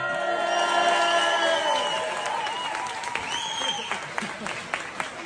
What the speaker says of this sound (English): everyone in the airport starts cheering for them